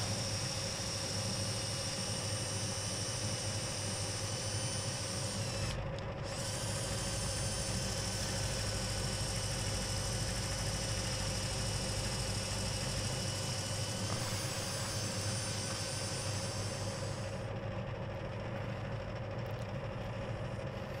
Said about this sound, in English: 80 grit pad there, just smoothing it round.